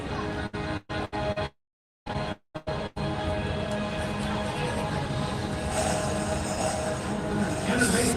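A ride locomotive rolls along its track at the Magic Kingdom with a continuous rumbling, rattling drone broken by several brief dropouts early on, steady and fairly close afterward.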